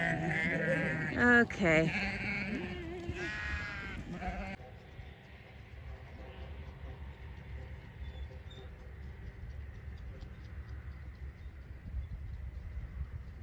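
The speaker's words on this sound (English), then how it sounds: "the sheep kind of disappeared on me, but apparently they're just hanging out today" Sheep bleating on a farm, a few close wavering bleats in the first seconds with a brief spoken word, then a quiet outdoor background.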